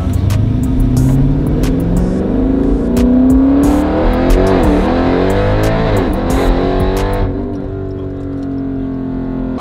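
A 1300 hp Jeep Trackhawk roars loudly and steadily at close range, its engine revving with rising and falling pitch before easing off near the end, with no one talking.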